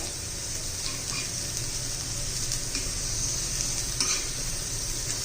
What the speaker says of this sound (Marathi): हलवत राहायचंय त्याला उलटी करत राहायची आहे मोठ्या गॅसवर केलं तरी चालू शकते